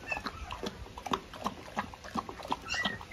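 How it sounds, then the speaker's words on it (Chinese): Newborn puppies, about thirteen days old, of the Canary Mastiff (Presa Canario) breed, give short, thin yelps and barks in a loose, irregular series, close by, against faint household background noise. "现在你小狗在叫呢"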